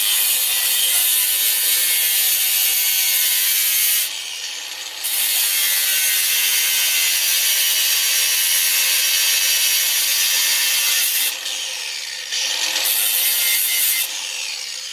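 A grinder cuts into a pin on an old motorcycle chain, a loud sustained high-pitched grinding that drops briefly twice as the tool lifts off and then bites again, with no talking.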